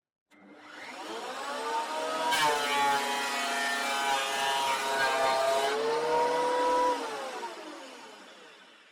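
Triton TPT125 317mm thicknesser planing a board, its cutter head spinning up to a loud steady whine, holding for several seconds as the board feeds through, then winding down.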